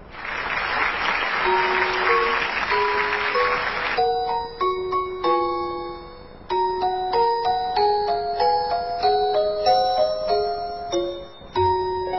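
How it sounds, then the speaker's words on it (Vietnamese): Applause from a televised children's singing competition audience at the Doremi 2012 final for a child performer, dense clapping for about four seconds before giving way to a tinkling, bell-like musical intro. "vỗ tay to lên nào"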